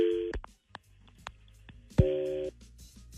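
An outgoing call placed during a radio show rings through a phone line, two clear electronic ring tones separated by a pause, loud and alone with no talking.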